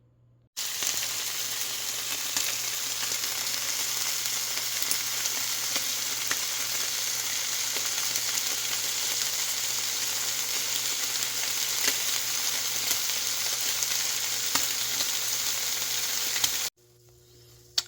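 Fat rendering in a pan that started cold, a steady close hiss of sizzling with fine crackles and occasional pops, continuous for many seconds before cutting off abruptly.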